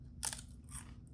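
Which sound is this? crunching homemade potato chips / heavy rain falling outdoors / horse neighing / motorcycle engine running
crunching homemade potato chips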